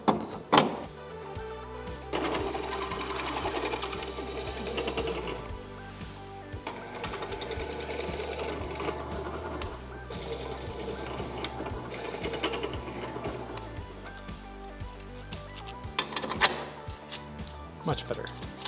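A drill runs in several whirring bursts as holes are enlarged in a rear battery box for an electric Porsche conversion, nearby in a workshop, with a person speaking over parts of it.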